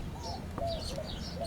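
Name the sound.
birds chirping and cooing outside on a porch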